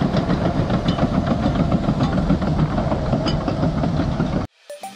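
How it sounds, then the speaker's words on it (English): The engine of a Vermeer T1255 Terrain Leveler SM heavy machine drones with a loud, constant rumble and rhythmic mechanical knocking, cutting off abruptly near the end. "with its powerful engine, it can transport materials on extreme road conditions"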